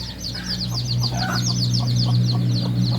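A young jungle fowl hen clucks in soft, repeated bursts over a steady low hum, with faint high chick chirping in the background.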